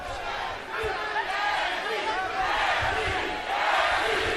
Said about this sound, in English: Crowd chanting for Tim Bradley.